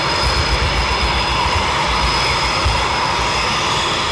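RAF Typhoon Eurofighter jet taxiing at night on an airfield, a loud, continuous roaring whine with a steady high tone, close and unbroken throughout.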